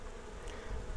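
Honey bees hum in a steady, dense buzz during a honey harvest, close and continuous for a brief moment with no voices.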